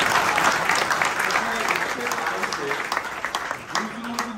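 A crowd claps continuously at a program in the BJP office in Indore, steady dense applause with someone speaking over it.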